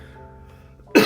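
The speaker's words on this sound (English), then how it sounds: "see that cough? I'm not going to cut that out." A single short cough from a man bursts out loudly at the very end after a near-silent pause, close to the microphone.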